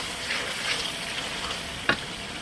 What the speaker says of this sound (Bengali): মাছের কালিয়া মশলাটা কষিয়ে নিচ্ছি